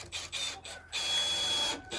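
Power driver sinking screws into wooden boards of a chicken tractor outdoors, two bursts of high whirring motor whine, the second longer and steadier, with brief pauses between.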